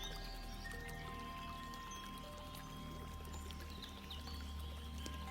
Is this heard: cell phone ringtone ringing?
no